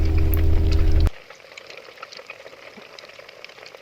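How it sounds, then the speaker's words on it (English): Ghee made from milk skin cooks in a pan, giving a loud, bubbling sizzle for about a second before cutting off abruptly to near quiet with faint, scattered crackles. "Cook the ghee until it has a rich golden color and a nutty aroma."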